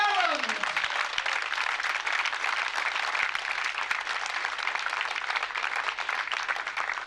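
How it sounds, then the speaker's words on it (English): Audience at Wimborne Road speedway stadium applauds to welcome back Australian rider Leigh, a dense, sustained burst of clapping from a large crowd that holds steady at full strength throughout. "I think the applause says it all"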